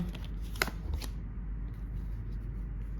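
Tarot cards are shuffled close by, with a short crisp riffle of flicking card edges near the start, then quieter handling and soft rustling.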